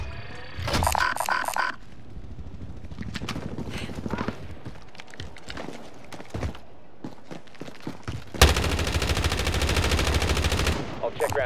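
Video game gunfire from akimbo Sykov pistols crackles in rapid bursts, first in short volleys, then a long, loud, sustained stream of shots near the end, with footsteps and other game sounds in between.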